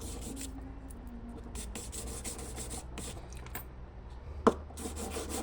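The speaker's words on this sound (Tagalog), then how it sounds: "Nililiha-liha ko lang para pag ginawa ng may-ari medyo makinis-kinis na." Sandpaper rubs over a yellow gold pearl earring and pendant set, a soft, close, continuous scratchy scrubbing in quick uneven strokes with one sharp tap near the end.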